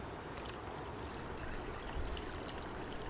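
Liquid is poured steadily off settled gold bond wires into a catch basin, a continuous close trickling wash with no break, with no voices over it.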